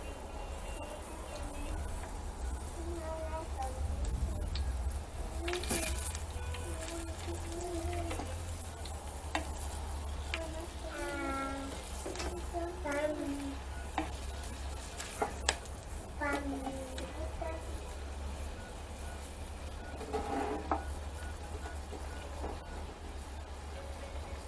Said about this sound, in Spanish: Vamos a dorar ya nada más el ajito.